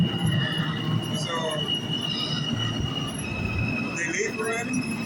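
A train pulls out of a station with a steady rolling rumble and high, wavering wheel squeals, heard nearby with faint background voices.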